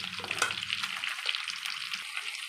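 Four peeled garlic cloves fry lightly in oil for a sweet-sour amra and garlic pickle, giving a steady close sizzling hiss with a faint clatter near the start.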